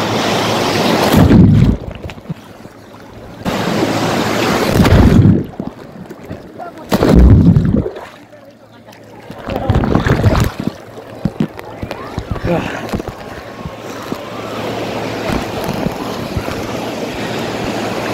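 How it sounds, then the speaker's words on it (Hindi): Big ocean waves surge and crash at Digha beach in several loud bursts of surf with wind, close and full, while people talk and shout over the roar. "ये लहर आ रही है बहुत बड़ी।"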